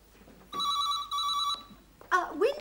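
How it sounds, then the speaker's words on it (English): An old telephone bell rings in two close bursts, a loud electric trill at home, followed by a brief voice reacting as the ringing stops. "now it's the phone"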